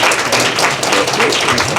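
An audience claps and applauds to welcome a guest speaker at a birthday celebration event, a dense, steady wash of many hands clapping at close range throughout.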